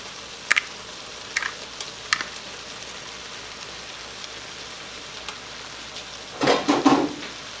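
Noodles dropped into a skillet of cabbage and sausage with crushed red pepper, giving a few light clatters early on, then a louder burst of rustling and sizzling near the end.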